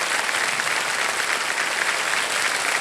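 Sustained applause from a television quiz-show studio audience, many people clapping together in a thick, unbroken wash that stays loud and even from start to finish with no voices over it.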